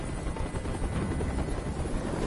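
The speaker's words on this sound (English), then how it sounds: "Tell that helicopter to get out of here!" Steady thumping whir of a helicopter's rotor in the video game Detroit: Become Human, close and loud, with no break for the whole moment.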